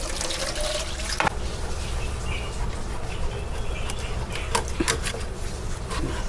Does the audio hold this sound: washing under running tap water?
yes